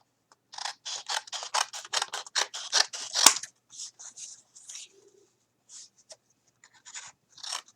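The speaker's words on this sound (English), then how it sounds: "So grab my scissors here and I'm just going to cut it down to about the same size" Scissors snip through thin mouse pad material, cutting it down to size in a quick run of crisp, close cuts, then a few slower, scattered snips after a brief pause.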